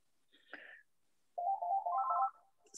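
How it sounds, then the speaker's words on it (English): A phone rings with an incoming call, a short electronic chirp and then a longer warbling melodic ringtone, clear against an otherwise silent background. "You got a phone call now."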